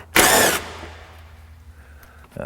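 A power driver spins out a 10mm fastener on an Acura Vigor's vent assembly with one loud, brief burst of whirring, followed by faint clicks and handling noises.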